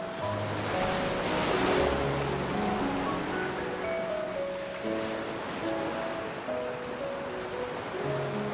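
Video game ocean waves from Love and Deepspace wash in a continuous, soft roar beneath gentle melodic music tones.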